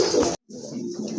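A male pigeon at a bird sale coos nearby in short throaty murmurs, broken by a brief pause, with no talk over it.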